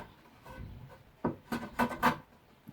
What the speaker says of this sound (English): putting a chamfer on the bottom edges so they don't